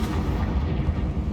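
A single heavy, booming blast from the Confringo spell in Hogwarts Legacy, loud and close with a deep rumbling body that fills the short moment.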